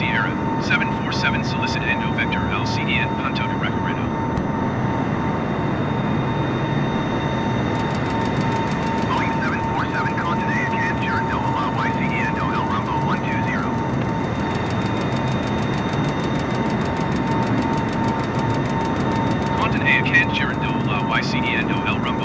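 A Boeing 747's engines in the game Flight Simulator 2020 drone steadily and loudly throughout, with radio-style voices talking over the continuous roar.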